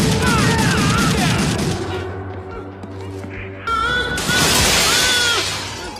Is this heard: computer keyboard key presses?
no